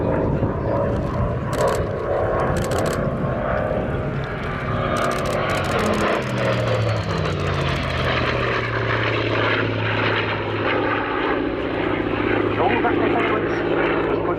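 A Hawker Sea Fury propeller fighter flies past at the Cosford Airshow 2019, its piston engine droning loud and continuous with pitch shifts as it passes, while a commentator talks over the public address.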